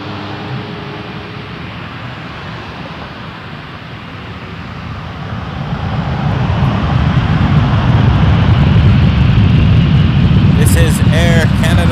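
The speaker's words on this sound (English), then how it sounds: "This is Air Canada 61 to Seoul. 7879 Dreamliner." An Air Canada Boeing 787-9 Dreamliner takes off at Toronto Pearson close to the fence, a steady jet rumble building into a louder, sustained roar, with a brief voice near the end.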